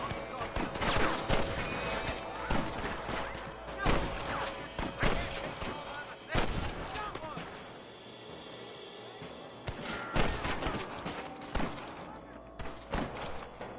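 Gunfire in a Red Dead Redemption shootout with rustlers, sharp scattered shots and volleys cracking out at irregular intervals, with voices shouting in between.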